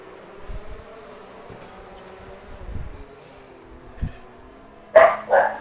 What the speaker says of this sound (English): It's dog is barking